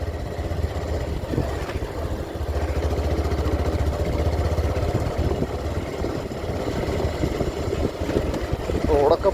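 A motorcycle engine idles with a steady, low rumbling putter that continues evenly throughout.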